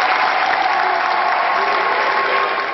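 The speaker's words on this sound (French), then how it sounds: "Les fidèles applaudissent et se lèvent." Mourners at a funeral service applauding as they rise, a steady, dense wash of clapping from a large congregation indoors, loud and continuous before fading slightly at the end.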